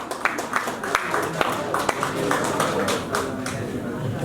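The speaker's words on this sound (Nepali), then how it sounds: "ताली बज्दै गर्नुहोस् हजुर।" Audience at a Nepali lok dohori stage show clapping, a dense patter of hand claps with sharper accents throughout, mixed under ongoing speech.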